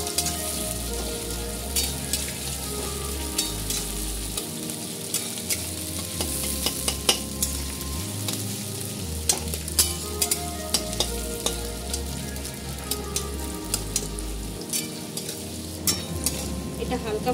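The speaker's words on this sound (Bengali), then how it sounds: "পেঁয়াজটা একটু ভাজা করে দেবো।" Onions and green chillies fry in mustard oil with whole spices, a constant close sizzle punctuated by the scrape and clack of a spatula stirring the pan.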